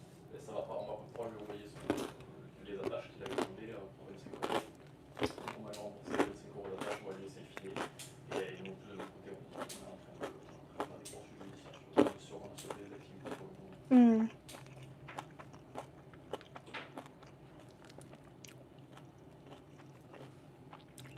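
Crisp crunching bites of toasted bread with chewing, under a voice talking, several sharp crackly crunches standing out near the mic.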